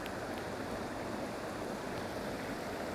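Continuous rushing water, a steady broad roar of a waterfall and fast stream at the Devil's Pulpit, Scotland, unchanging throughout with no voices.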